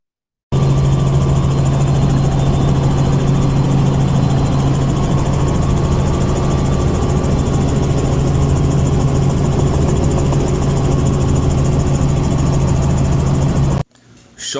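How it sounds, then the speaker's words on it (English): A helicopter idles steadily close by on a beach beside Samara Bay, its engine holding a loud, continuous low drone with a strong hum and rotor vibration for the whole stretch before cutting off abruptly at the end. "And here comes the helicopter."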